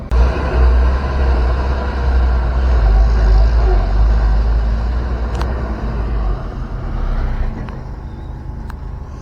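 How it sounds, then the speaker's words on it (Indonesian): Trucks loaded with fill soil rumble into a toll road construction site near a river bridge, a heavy low engine drone close by and steady, with a couple of sharp clanks toward the end. "kendaraan truk yang membawa tanah timbunan sudah mulai berdatangan sekitar jam setengah 10"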